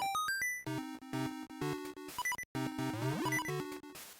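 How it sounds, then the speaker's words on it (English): Low-health alarm from Zelda: Oracle of Ages beeps in a regular rhythm among bright chiptune music and chirpy sound effects, loud and clear with no talk. "And I apologize for the beeping."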